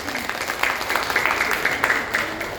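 An audience claps at an early-childhood education talk show, a short burst of dense, even applause at moderate loudness that fades slightly toward the end.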